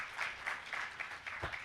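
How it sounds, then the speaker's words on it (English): Applause from a conference audience at a security talk in Las Vegas, a steady wash of clapping at moderate level with no speech over it. "Let's give another round of applause here for Mario Eldritch."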